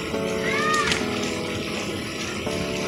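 Steady rushing, sloshing hot spring water churning continuously in a pool, with a faint voice and a brief tonal whine early on.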